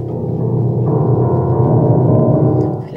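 Low keys on a piano played in a dense sustained cluster, a deep rumbling chord held for about three seconds at steady loudness before fading at the end.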